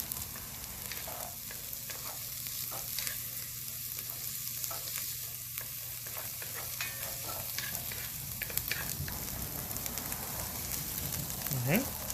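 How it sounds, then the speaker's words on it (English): A spatula stirs food sizzling in a cast iron Dutch oven while white chicken chili is being made, with a steady frying hiss throughout, occasional scraping strokes, and a scrape rising toward the end. "we're going to take our little spatula and just kind of stir it around a little bit."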